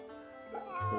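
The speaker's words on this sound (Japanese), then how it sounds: "猫だな。" A cat meows in the video game Fate/Samurai Remnant, a short, fairly close call with a rising tone near the end, layered over steady game music.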